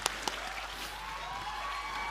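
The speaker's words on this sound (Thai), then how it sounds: "ขอเสียงปรบมือให้กับทั้ง 6 คนบนเวทีครับ" A fan-meeting audience claps for six performers on stage, scattered handclaps with a couple of sharp close ones at the start, then a thin, fairly quiet patter under a faint sustained tone.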